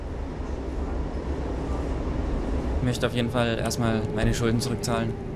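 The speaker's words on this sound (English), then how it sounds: "He heads home on the commuter train." A commuter train in Germany rolls along the rails with a steady, close, rumbling cabin hum, and a person begins talking over it partway through.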